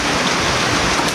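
Steady rain pours down in a continuous, dense hiss, with no breaks or voices, filling the whole moment evenly.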